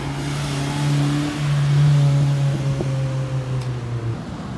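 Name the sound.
Ford Mustang car engine revving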